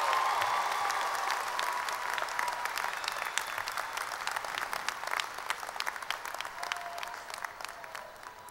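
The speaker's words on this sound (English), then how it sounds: "Can we give her another round of applause?" Sustained applause from a commencement audience at a 2013 community college graduation ceremony, dense clapping filling the space steadily and gradually thinning toward the end, with no voices above it.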